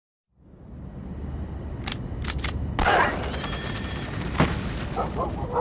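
A sharp gunshot cracks out over a low rumbling ambience, followed by a few fainter sharp bangs and clicks.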